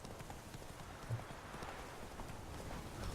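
Horse hooves clip-clop steadily at a quick gait in the Witcher video game, a soft rhythmic patter under faint background ambience with a brief voice nearby.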